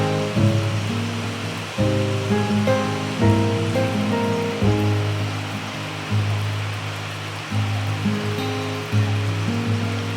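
A dense, steady hiss of rain falls during a thunderstorm on a golf course in Thailand, continuous throughout and overlaid by repeating tonal background music.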